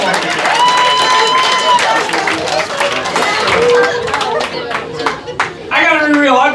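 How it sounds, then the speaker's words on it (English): Comedy club audience clapping and cheering for a birthday guest, with a mix of claps, whoops and chatter under ongoing voices. "Round of applause for the birthday boy."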